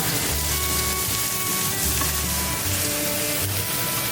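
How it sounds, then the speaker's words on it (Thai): Chopped garlic and shallots fry in a pan with a steady, loud, continuous sizzle and no talking. "ลงกระเทียมกับหอมแดงเรียบร้อยแล้วนะครับ ผัดให้มันพอเหลืองแป๊บนึงนะครับ"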